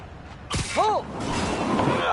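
Clay skeet target launched and shot in Marvel's Spider-Man video game: a sharp launch thump followed by a whooshing flight and a brief crack, with game sounds and a voice behind.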